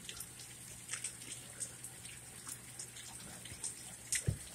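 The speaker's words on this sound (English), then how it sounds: "It's pouring right now." Heavy rain pouring outdoors on a Friday evening, a steady soft wash of drops with scattered sharper taps and a low steady hum underneath, faint and continuous throughout.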